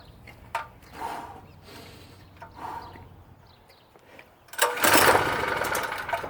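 A PowerSmart PS44 3000W generator with corroded, blackened fuel is pull-started, giving a few faint rasping pulls before a louder burst of engine noise near the end.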